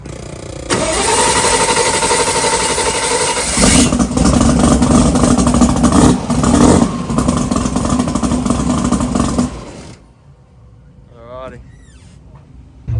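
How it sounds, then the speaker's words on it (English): A race car engine cranks and fires up cold, then runs loud and rough with throttle blips and revving for several seconds before cutting off, leaving quieter background with a voice near the end. "we're just going to give it a fire up before we go around for the final"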